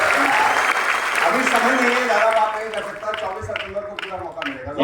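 A crowd applauding at a Vestige business meeting, dense clapping under a man's speech that thins into scattered individual claps as he keeps talking.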